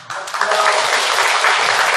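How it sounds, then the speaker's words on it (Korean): Applause from an audience welcoming city council members at a gateball tournament in Gwangyang, a dense, steady clapping that fills the room for two seconds. "자, 박수 환영해 주세요."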